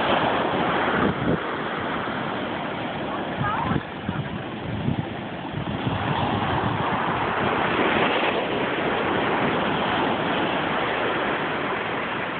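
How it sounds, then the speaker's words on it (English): Ocean surf rolls onto Marconi Beach on Cape Cod, a continuous loud wash of breaking waves with gusty wind buffeting the microphone throughout. "At Marconi Beach in Cape Cod"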